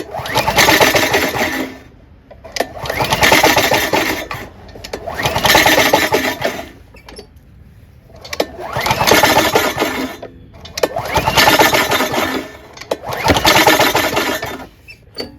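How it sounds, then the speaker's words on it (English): Six rough, rasping mechanical bursts, each about a second and a half long, separated by short pauses: the starter cord of a Honda GCV160 lawnmower engine with no spark, yanked repeatedly. "I'm going to pull it and see if there's any spark."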